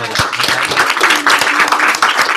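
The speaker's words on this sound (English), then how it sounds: "Give her a round of applause." A training group gives a round of applause, a loud spatter of many hands clapping close by with some uneven sharper claps and faint voices mixed in.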